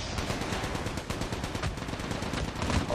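Rapid automatic gunfire in Call of Duty Mobile, a loud, dense burst of machine-gun shots that runs continuously for the whole stretch with no pauses.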